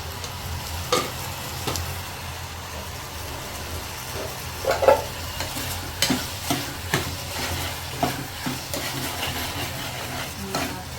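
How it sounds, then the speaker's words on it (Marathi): Lentils frying in oil inside a pressure cooker over a high gas flame: a steady sizzle with intermittent clinks and scrapes of stirring, close and moderately loud, no talk. "गॅस फास्ट करूनच करून घेतो त्याच्यामध्ये डाळ पण मस्तपैकी फ्राय पण होते"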